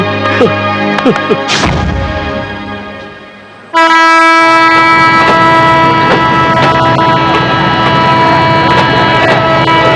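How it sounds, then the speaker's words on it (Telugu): A train horn blares loudly and steadily, with the rumble and clatter of rail cars beneath it. "ఐదు నిమిషాల్లో ట్రైన్ కదలబోతోంది"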